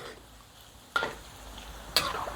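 Pork rinds fry in oil over lowered heat, a low steady sizzle broken twice by louder stirring scrapes and bursts of crackle, near and clear with no talking.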